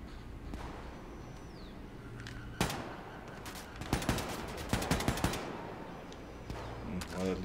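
Gunfire in Wolfenstein II, with bursts of automatic fire and sharp shots clustering in the middle and trailing off, set against ongoing game ambience and a voice talking.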